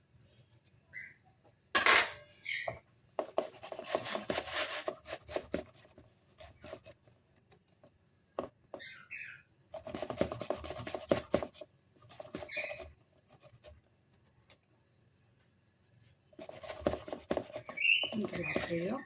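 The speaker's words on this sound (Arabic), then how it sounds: "غنحك الدريسات تاع الثوم." Garlic cloves grated by hand in a home kitchen: three bursts of dry, rasping scraping, each a few seconds long and separated by quiet pauses, with faint clicks and light knocks in between.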